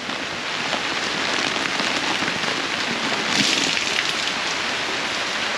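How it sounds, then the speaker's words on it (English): Steady patter of water dripping and splashing onto a wet surface, continuous and fairly close, with a slightly louder burst of splashing partway through, as water pools and drips at the corner of a Mercury Cougar's rear window. "it's pooling up and dripping on this corner here"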